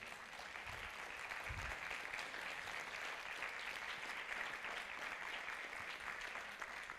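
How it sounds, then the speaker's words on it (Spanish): Sustained applause from a church congregation at an apostolic congress, a steady dense wash of many hands clapping at moderate volume throughout, with no clear voices on top. "Denle un aplauso al Señor."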